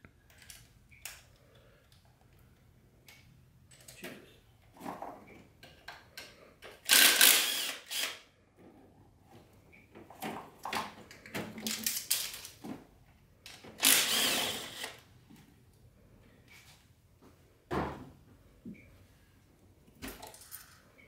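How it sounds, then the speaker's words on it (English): Ratcheting and clicking of a hand tool undoing four 8mm valve cover bolts on a C5 Corvette engine, close and intermittent, with quick bursts of metallic clatter between quieter pauses. "These are held on by 4 8mm bolts. And so I'm just going to undo them here."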